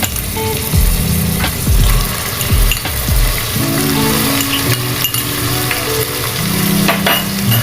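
Onions frying in hot oil for hilsa pulao, a loud close sizzle with clinking and scraping stirs and a few metallic knocks against the pan, no talking.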